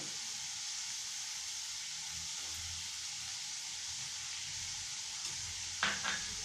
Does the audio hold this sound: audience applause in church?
no